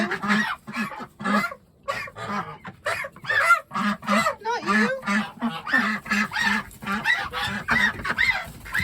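Confused geese being herded around their house honk in a loud, near, irregular string of calls, mixed with a person talking to them in between.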